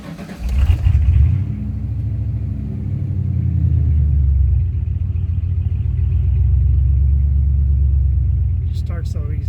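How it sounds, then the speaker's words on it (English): Land Master engine cold-starting after sitting a while, a cranking catch and rev swell that settles into a steady, loud, low rumbling idle, with a voice talking briefly at the start. "Here's another cold start."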